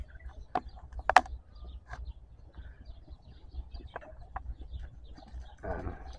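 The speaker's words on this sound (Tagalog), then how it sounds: "At may manok din sila dito mga idol na native." Native chickens on a farm give scattered, faint clucks and short calls against quiet outdoor background noise, with a brief rustle near the end.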